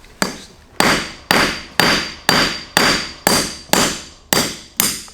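A hammer taps a 17mm socket to knock a part out of a Toyota Tacoma, landing about ten loud, evenly spaced metallic strikes, each ringing briefly before the next.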